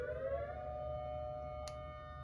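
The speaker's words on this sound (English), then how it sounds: "Do you guys hear that siren?" A long wailing siren holds a steady pitch in the distance, sounding alone and fairly faint with a brief click partway through.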